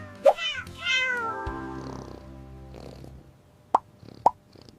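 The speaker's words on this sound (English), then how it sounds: "It's a cat." A domestic cat gives a few meows: a short high call, then a longer drawn-out meow, followed by two brief sharp knocks or plops, all fairly close in a quiet setting.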